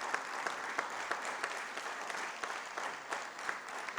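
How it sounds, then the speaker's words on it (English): At a healthcare excellence awards ceremony, an audience claps for an honoree during a citation presentation, a thin but continuous patter with distinct individual claps popping out at a fairly regular rhythm. "Can we have a greater round of applause for his unwavered hard work?"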